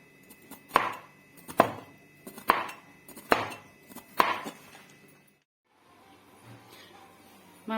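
Knife chopping bitter gourd into thin slices in a Kerala kitchen, five crisp, evenly spaced cuts landing close and clear, followed by a quiet pause and faint handling sounds.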